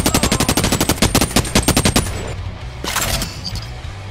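Automatic gunfire in the VR game Boneworks: about two seconds of rapid, evenly spaced loud shots, then a quieter stretch with a brief clatter.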